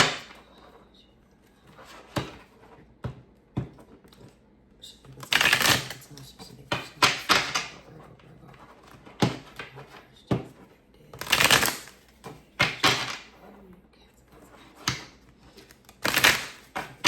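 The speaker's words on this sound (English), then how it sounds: "we're going to shuffle a few cards on that" Tarot cards are shuffled close up in repeated crisp riffling bursts, separated by soft taps and brief pauses.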